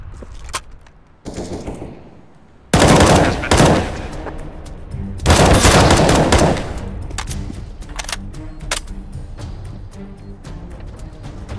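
Rapid automatic gunfire in a tactical first-person shooter bomb-defusal round, with loud sustained bursts and scattered single shots, some near and some more distant, echoing between volleys.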